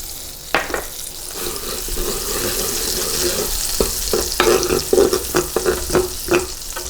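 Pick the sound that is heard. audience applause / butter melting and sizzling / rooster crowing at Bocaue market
butter melting and sizzling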